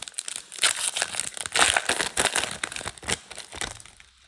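Black Myth Wukong booster card packs are torn open, with close crinkling, crumpling foil wrappers and sharp tearing bursts in an irregular run.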